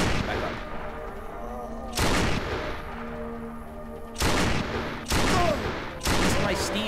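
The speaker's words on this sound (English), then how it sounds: "the sound of my gunfire is attracting more zombies" Sniper rifle fire in a zombie video game sounds as four sharp, loud shots spaced a second or two apart over a steady rumbling game ambience.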